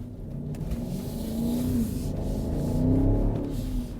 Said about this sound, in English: Now the M50i comes with the M Sport exhaust. And that's why you hear this nice.